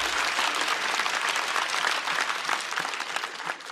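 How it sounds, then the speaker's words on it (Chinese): Audience at a stand-up comedy show bursting into sustained applause, a dense, even wash of many hands clapping together, loud and full for the whole stretch with no speech over it. "再次掌声送给小雪"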